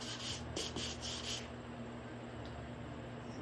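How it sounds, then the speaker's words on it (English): Several quick back-and-forth strokes of sandpaper rubbing lightly with the grain on a wooden table top, close up, then the scraping fades to a quiet hum. "Just a little bit sanding with the grain."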